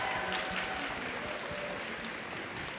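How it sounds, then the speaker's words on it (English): A big crowd at a live-streamed Warriors community event applauds, a thick, unbroken roar of clapping that stays loud and even from start to finish. "Let's give them a really big round of applause."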